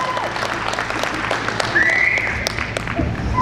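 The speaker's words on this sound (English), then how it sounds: "So another round of applause for this man" Applause at an outdoor college commencement ceremony for San Carlos Apache College, steady dense clapping from the gathered crowd with a brief whistle, continuing evenly throughout.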